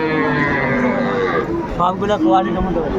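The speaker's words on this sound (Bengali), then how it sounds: "ষাড় বাচ্চা চারটায় সার বাচ্চা বেশ সুন্দর ষাঁড়" Young bull calves low and moo at Aftabganj cattle market, a steady drawn-out bellowing with a few shorter calls near the end, close by, over a busy background and some talk.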